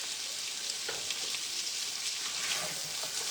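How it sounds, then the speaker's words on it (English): Onions and carrots sauté in a pan with a continuous, close hissing sizzle and occasional soft stirring scrapes, no one speaking. "So we are kind of sauteing our onions and our carrots."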